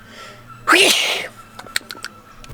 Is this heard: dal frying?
no